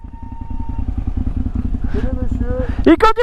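A motorcycle rides a trail on an Alpine off-road trip, its engine droning steadily close by, with a sharper rev and clatter near the end as a voice speaks over it.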